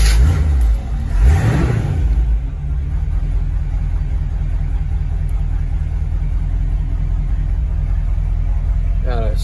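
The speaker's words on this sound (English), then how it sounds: "I'll go ahead and start this up." A 1949 Chevy 3100 short-bed pickup truck engine cranks and fires up, then settles into a loud, close, steady rumbling idle.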